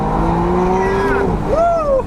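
A 2025 McLaren Artura Spider accelerates hard, its engine note climbing steadily through a gear, dropping briefly at the shift, then rising again, loud and close.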